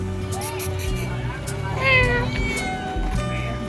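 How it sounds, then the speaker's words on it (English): Several cats meow in a narrow alley near a medieval church site on the Amalfi Coast, their cries rising over a busy background of crowd chatter and street bustle. "There were numerous cats about and a decent amount of bustle."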